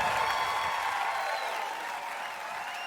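Live concert crowd applauding and cheering after a song, a dense steady wash of clapping that stays loud and fades only slightly over a few seconds.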